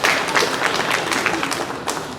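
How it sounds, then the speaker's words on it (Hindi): Enthusiastic audience applause at a Central Bank of India zonal office Independence Day celebration, welcoming a young girl about to sing; dense, loud clapping from a room full of people, steady for the whole stretch. "प्यारी बिटिया के लिए जोरदार तालियों से अभिनंदन।"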